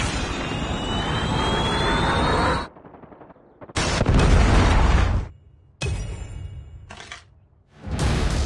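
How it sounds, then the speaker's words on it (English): A Predator missile strike in the Call of Duty Mobile video game plays as loud, roaring blast bursts in several bouts separated by short gaps of near silence. "Predator missile inbound."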